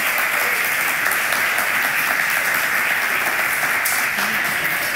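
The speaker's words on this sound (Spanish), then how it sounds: "Un aplauso." Audience applause at a live tasting event on stage in Murcia, a dense steady clapping that fills the whole stretch evenly at close range, with no voices on top.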